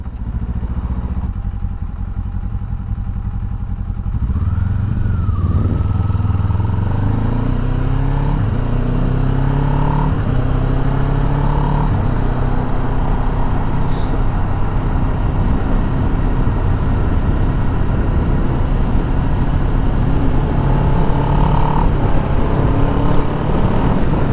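A Kawasaki Z7 Hybrid motorcycle in sport mode, engine note rising and falling through gear changes as it accelerates, heard close with steady road and wind noise.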